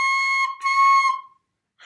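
A high C on a recorder, two clean sustained whistle-like tones with a brief break between them, close and clear, then silence before a faint breath at the end.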